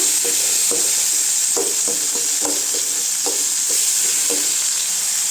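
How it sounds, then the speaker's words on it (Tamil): Tomatoes sautéing in hot oil in a pan for pirandai chutney, under a loud, steady hiss of sizzling, with soft rhythmic scrapes of a spatula stirring them; close, continuous and without talk. "தக்காளி சேர்த்துக்கலாம் தக்காளி நல்லா வதங்கட்டுங்க"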